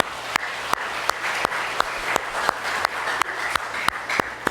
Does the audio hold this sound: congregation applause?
yes